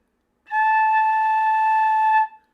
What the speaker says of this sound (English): So just with the head joint, it sounds like this.